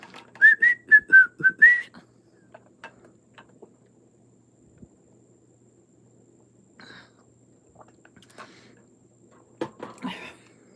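A person whistles a short, bright melody of about six notes, close and clear. The whistling then stops, leaving near-silence with faint scattered clicks and noises.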